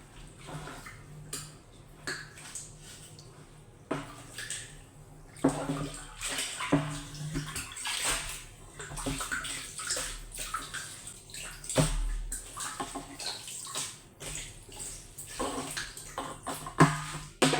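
Water sloshes and splashes irregularly while a 550-litre water storage tank is washed out, with scattered knocks and scrubbing bursts, fairly close and without talk.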